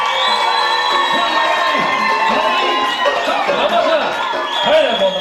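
A crowd at a wedding celebration cheers, whoops and shouts loudly and continuously for the first couple, with children's voices and laughter mixed into the din.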